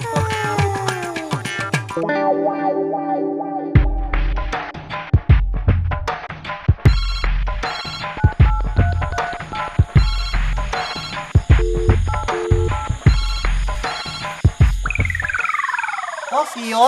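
A mobile phone rings loudly during a comic Assamese stage play, a bright electronic melodic ringtone repeating in stepped, beeping phrases for many seconds, close and dominant, ending in a rising sweep.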